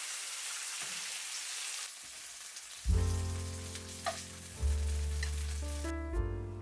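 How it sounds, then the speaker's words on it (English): Marinated doner kebab meat sizzles on a grill, a broad hissing crackle for the first few seconds before tuneful background music takes over and the sizzle fades beneath it. "Let them grill for 5 minutes."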